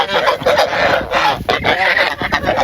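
A flock of large domestic ducks quacks and honks continuously, close and loud, with overlapping calls and no pauses.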